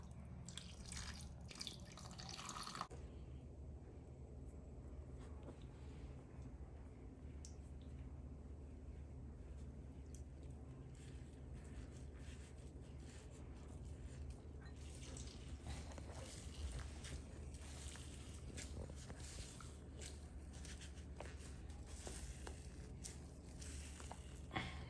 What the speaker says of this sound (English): This is how the first coconut milk will come.